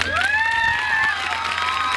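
A comedy show audience in India breaks into loud cheering and shouting with some clapping, a dense crowd roar lasting the whole moment.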